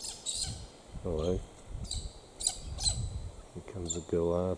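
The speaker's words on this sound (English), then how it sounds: "Here comes a galah to annoy everyone." A galah squawks in harsh, repeated bursts on a windy, cold day near water in Boyagin, with other birds chirping faintly and voices murmuring quietly behind.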